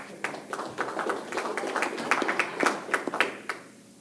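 A small audience at a junior college basketball media day applauds a newly introduced speaker, with irregular sharp claps that start sparse, pick up, then fade out; no talking over it.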